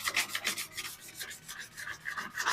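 Hand sanding on a car or truck body ahead of a cheap paint job, a close rhythmic rasping scrub repeating in quick back-and-forth strokes, with no talking.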